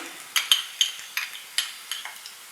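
Softened onion and crushed garlic frying in a pan, a faint background sizzle broken by a series of sharp, close spatula scrapes and clinks at an irregular stirring rhythm.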